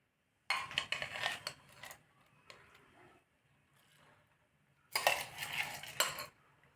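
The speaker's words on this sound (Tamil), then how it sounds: "இப்போ நான் வந்து இந்த அரிசியை இதில் சேர்க்க போகிறேன்" Rice pours into a pot of milk while payasam is being made, giving two bursts of clattering and rattling about four seconds apart. Fainter scrapes and taps fill the gap between them.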